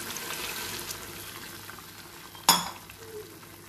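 Tough vegetables for pithala curry fry in a pan with a low, steady sizzle, close and quiet, interrupted by a single sharp metallic clink near the end.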